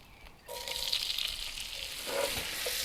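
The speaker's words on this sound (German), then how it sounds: "Die Zwiebeln lassen wir jetzt auch mal so 1-2 Minuten alleine ein bisschen andünsten." Onions hit hot oil in a pan and sauté over high heat, a soft hiss swelling quickly into a steady close sizzle with a few light crackles, no talking over it.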